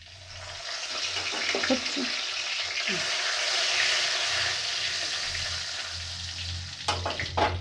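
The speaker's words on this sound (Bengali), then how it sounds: "ফার্স্টে জিরে আর তেজপাতা ফোড়ন দিলাম" Cumin seeds and bay leaves tempering in hot ghee in a pan: a loud, continuous crackling sizzle close by that holds steady, with a few sharper pops and clinks near the end.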